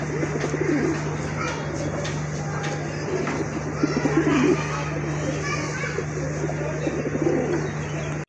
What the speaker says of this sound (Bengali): নতুন কবুতর, সম্পূর্ণ নতুন কবুতর, আর নতুন কবুতর কিন্তু অনেক ভালো ডিম বাচ্চা করে থাকে।